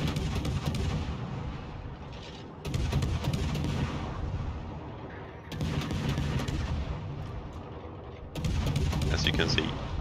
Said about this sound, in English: I try to blind fire into the smoke.